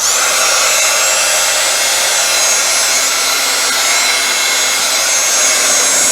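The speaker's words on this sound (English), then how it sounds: "So I'm going to grab my heat tool" A crafting heat tool blasting hot air over a Valentine card, a loud, close, unbroken hissing roar throughout.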